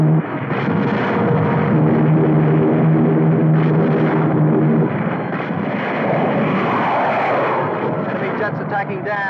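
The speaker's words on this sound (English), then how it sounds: "Enemy jets approaching Boulder Dam." Enemy jet aircraft attacking Boulder Dam in a 1952 war film, a loud roaring engine wash mixed with booming blasts and a sustained tonal drone, with shouted voices over the din.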